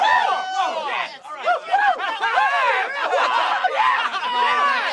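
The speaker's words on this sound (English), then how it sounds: "I feel like maybe I could just put in some guys cheering." A played sound effect of a group of men cheering and whooping, a lively crowd of overlapping shouts and chatter, fairly close and continuous.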